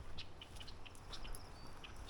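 Red-winged blackbirds calling around a pond on a breezy spring day, short bright chirps and whistles repeating every fraction of a second, fairly distant over low wind rumble.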